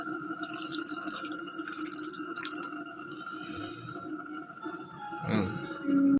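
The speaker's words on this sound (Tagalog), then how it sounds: "So, lalagyan ko siya tubig. Lagyan ko siya onting tubig." Water trickles and drips into a cooking pot, quiet and close, with a brief louder gush of pouring near the end over a steady background hum.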